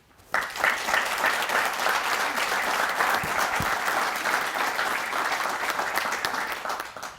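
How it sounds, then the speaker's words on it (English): At a college groundbreaking ceremony for an allied health center, an audience bursts into loud, dense applause that holds steady for several seconds before tapering off. "The clapping was really great."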